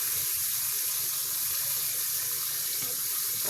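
Tap water runs steadily into a sink while a plate is washed, a constant close hissing rush with no pauses and no voices.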